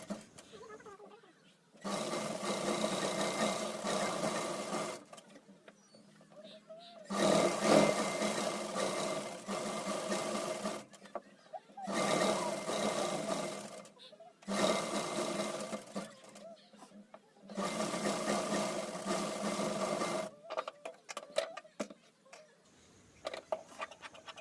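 A sewing machine stitches the lining of a frock made from an old saree, running in several long steady bursts of whirring hum separated by short pauses, close and fairly quiet.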